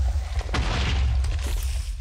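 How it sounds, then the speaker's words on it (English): Explosions in Minecraft: deep booming blasts rumble one after another, heavy and low, with bursts of crackling noise over a constant rumble. "That's a lot of explosions."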